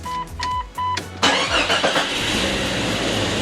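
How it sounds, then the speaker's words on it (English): A Jeep Cherokee with a newly replaced fuel pump, first a few short priming chirps, then the engine cranks, catches and settles into a loud, steady idle close by. "go ahead and try to start it up"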